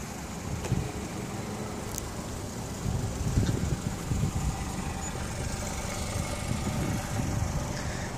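A 2016 Honda HR-V EX with a 1.8-liter four-cylinder engine idles steadily with a low, even rumble, continuous and moderately close, with no talking over it.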